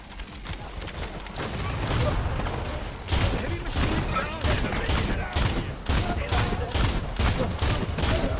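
Rapid gunfire and grenade blasts crackle and thump almost without pause in a video game firefight, loud and dense, while a player talks over the shooting.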